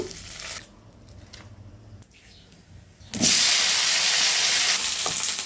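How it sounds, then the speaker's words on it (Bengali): Pointed gourd fries in oil in a pan. A quieter sizzle with light stirring noises swells abruptly into a loud, steady crackling hiss that holds through the rest of the clip. "এদিকে পটল ভাজা হচ্ছে"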